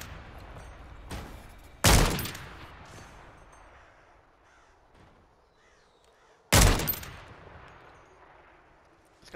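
Two loud, sharp gunshots from a player's gun in Warzone on the Urzikstan battle royale map, spaced several seconds apart and each trailing off into a short echo over a quiet background.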